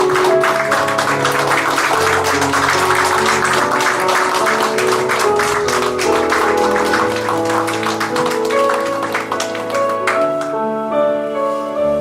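A church congregation at a Christmas service claps in a steady rhythm over loud, sustained music, the claps running throughout.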